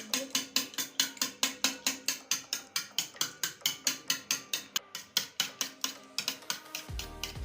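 Eggs being whisked with salt in a bowl, a fast steady run of sharp clinking beats, close and fairly loud, with no voices; the whisking stops near the end.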